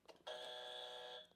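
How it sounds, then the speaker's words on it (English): A buzzer marks the start of a speed round, sounding as one sustained, steady electronic tone that lasts about a second. It is fairly faint, and brief low murmurs come just before it and just after it. "That's the buzzer."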